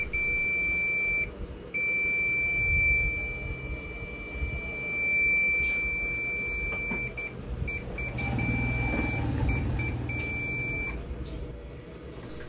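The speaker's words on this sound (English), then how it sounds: "It beeps, which means it is probably shorted." A multimeter in continuity mode beeps while probing a shorted buck converter rail on a Samsung smart TV board, a steady high tone that holds, drops out, then returns in several broken stretches over low workshop noise.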